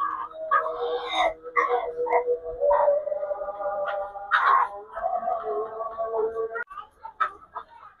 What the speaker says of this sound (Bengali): এই মিশরি ফার্মি মুরগিগুলো